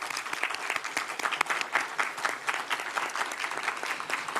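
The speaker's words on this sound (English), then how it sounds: "Audience, shall we give them a hand of applause?" An audience at a community candidate forum applauds the candidates. The dense, steady clapping comes at moderate volume, with no talk over it.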